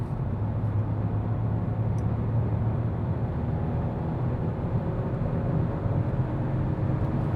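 A small turbocharged Hyundai i20 accelerates from 100 km/h, its steady engine drone and road roar filling the cabin continuously at a constant loud level, with no speech.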